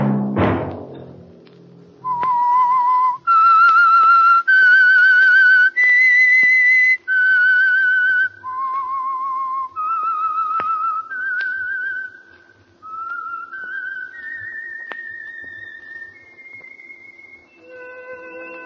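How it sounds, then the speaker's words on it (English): A lone whistled theme melody signals The Whistler radio mystery show, a clear sustained tune of held and sliding notes after a brief low opening sound, loud and unaccompanied. "Let that whistle be your signal for the Whistler"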